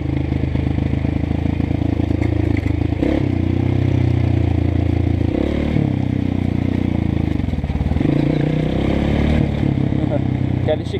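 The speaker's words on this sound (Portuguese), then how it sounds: "Só no freio motor aqui." A Honda CRF 230 motorcycle engine braking on a ride, loud and close, with its engine note rising and falling continuously throughout.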